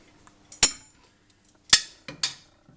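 Pasta for a cheese gratin being stirred in a pot or dish, a few sharp metallic clinks of a utensil against the container, separated by short pauses in a quiet kitchen.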